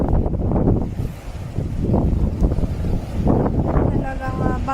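Strong gusting wind battering a microphone in stormy weather in northern Norway, a loud, continuous rumbling roar that surges and eases in waves, with faint talk mixed in.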